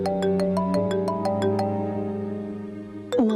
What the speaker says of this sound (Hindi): मामा का फोन इस टाइम?